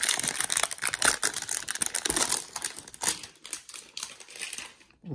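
Crinkling plastic wrapper of a 2021 Topps hanger box trading card pack being torn open and handled, close and fairly loud, with continuous rustling and crackling bursts that ease off near the end.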